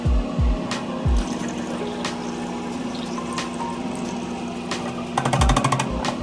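Water rinsing film in a developing tank and blix being poured in during home colour processing with a Cinestill CS41 kit: a continuous pouring, gurgling flow opened by a few dull knocks, with sharper clatter near the end.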